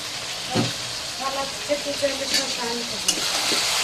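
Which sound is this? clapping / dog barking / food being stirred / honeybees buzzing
food being stirred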